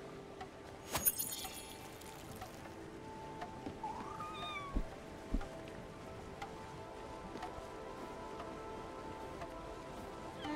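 A cat in the video game Spiritfarer gives a short rising meow partway through, faint over soft rain-like ambience, with a few light clicks and taps around it.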